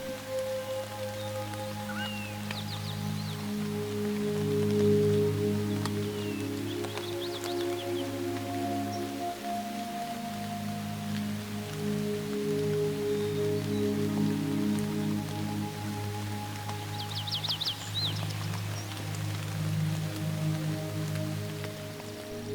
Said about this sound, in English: This is the monsoon, and the rain brings relief from the unrelenting heat